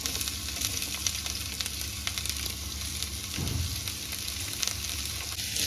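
Two onions fry in a spoonful of oil in a pan for an egg and chicken curry, giving a soft, continuous sizzle with a brief stir near the end, no talking.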